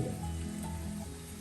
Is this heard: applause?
no